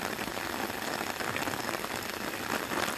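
Steady rain falls in a garden in Thailand, a dense, even hiss of drops spattering on plants and surfaces, close and continuous with no talk.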